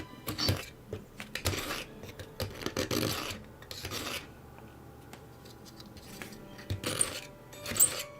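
Scissors being sharpened on the fine side of a whetstone, repeated gritty rasping strokes in uneven bursts, close and fairly quiet, with short pauses between passes.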